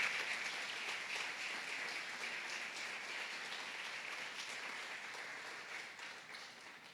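A church congregation applauds at a sermon, giving steady, sustained clapping that fills the room at moderate level and tapers slightly toward the end, with no talk over it.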